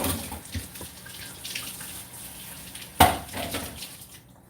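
Kitchen tap running for handwashing, a steady splashing water stream at close range with a sharp clunk partway through, no voices.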